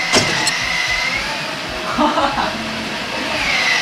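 A children's ride-on electric Ducati motorcycle toy runs with a steady motor whine that holds through the clip, loud and close, while people talk over it.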